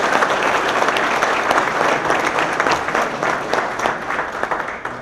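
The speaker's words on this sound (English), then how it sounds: "we'll give them a big round of applause" Loud, dense applause from an audience at the Rialto police chief's swearing-in ceremony, steady for several seconds with no voices over it before it begins to thin.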